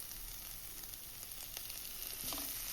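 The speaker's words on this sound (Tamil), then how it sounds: "இப்போ நம்ம இஞ்சி பூண்டை சேர்த்துக்கலாம்." Ginger and garlic sizzle in hot oil with softened onions in a frying pan for an egg gravy, a faint, steady crackling hiss with small pops, alone without talk.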